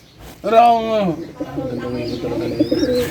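A pigeon coos nearby in a drawn-out, throaty call, and further soft cooing follows while a person speaks.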